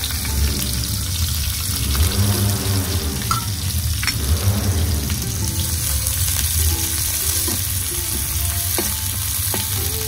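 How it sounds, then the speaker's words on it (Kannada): Onions being fried in hot coconut oil in a pan for a Mangalore-style fish head curry, giving a steady close sizzle and crackle that runs unbroken throughout with no talk. "ಒಳ್ಳೆ ಬಿಸಿಯಾಗಿದೆ. ನಾನು ಇವಾಗ ನೀರುಳ್ಳಿಯನ್ನು ಇದಕ್ಕೇನೆ ಹಾಕ್ತಾ ಇದ್ದೇನೆ."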